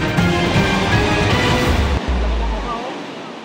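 Strong current of floodwater from an overflowing river undercutting a damaged road near Metro Manila, a steady loud rushing roar with deep low rumble, broadband and continuous, cutting to a quieter surge near the end.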